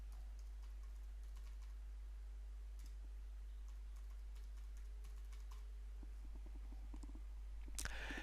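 A computer keyboard is typed on to enter a password: faint scattered key clicks over a steady low hum, ending in a louder keystroke, with no talk.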